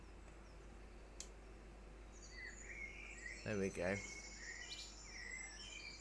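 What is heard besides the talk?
birdsong recording played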